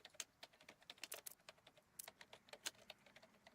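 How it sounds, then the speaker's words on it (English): Steady typing on a computer keyboard during a relaxed coworking session, a quick run of crisp, close key clicks with slightly louder strokes scattered through, no voices. "Oh, we're typing again."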